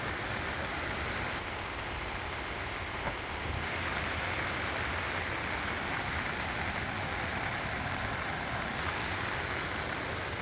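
A flooded river in the Satpura hills surges over a submerged bridge during heavy monsoon rain, a constant dense roar of rushing water filling the whole scene with no breaks and no voices.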